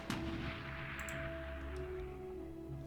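Gunfire aimed at a Wellington bomber in the Klotzen Panzer Battles war game, Crusader scenario: one sharp shot near the start, then a few faint cracks over a steady low engine drone.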